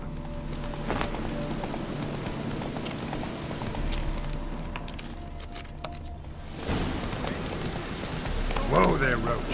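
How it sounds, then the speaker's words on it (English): Clip-clop of a horse moving through rain in The Witcher III video game, steady hoofbeats under a constant rain wash, with a whinny-like burst near the end. "Whoa there, Roach"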